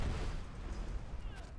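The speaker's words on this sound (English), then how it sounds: "basically it's just a massive explosion" A fire arrow explodes in the Skyrim video game, a low, rumbling blast heard faintly, with muffled booming that rolls on.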